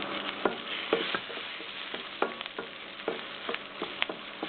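Dal with asafoetida and two chillies frying in oil as a tempering for keerai rice, a soft steady sizzle punctuated by repeated light scrapes and taps of stirring, close and fairly quiet, no talking.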